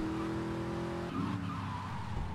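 Cars skid with squealing tires in the video game GTA Vice City Remastered, a loud continuous screech under engine roar that shifts pitch midway, without speech.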